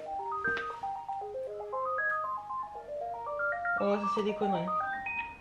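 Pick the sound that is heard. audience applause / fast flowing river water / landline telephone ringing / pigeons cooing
landline telephone ringing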